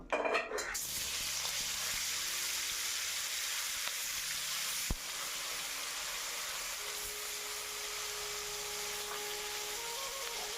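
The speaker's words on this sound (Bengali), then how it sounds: "তেল গরম হয়ে গেছে, কড়াই গরম হয়ে গেছে, তেলও গরম হয়ে গেছে। এবার আমি মাছগুলো ছেড়ে দিব।" Pieces of shankar fish, a stingray, drop into hot oil in a kadai with a sudden loud burst of sizzling that settles into a steady, dense crackle, with one sharp utensil clank midway.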